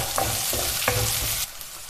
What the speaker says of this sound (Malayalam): ഇതെല്ലാം ചേർത്ത് ചെറുതായിട്ടൊന്ന് വഴറ്റിയെടുക്കാം.